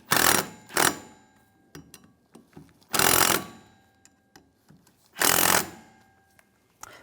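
A ratchet tightens bolts on Cadillac Escalade steering parts in several close, loud bursts of rapid clicking. Scattered small metallic taps and clicks fall between the bursts.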